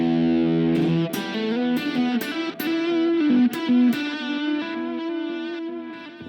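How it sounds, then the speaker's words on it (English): Electric guitar played through a small Spark GO amp on a high-gain setting with a wacky delay, loud and close, sustained chords and picked notes blurring into warped, repeating echoes with no talking. "let's tweak our delay with something a bit more wacky"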